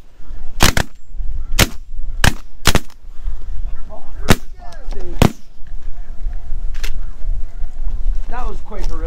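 Shotgun blasts from a snow goose hunt in Alberta: about seven loud, sharp shots, grouped in a quick volley and then spaced out, with honking geese, wind and excited voices of hunters talking between the shots.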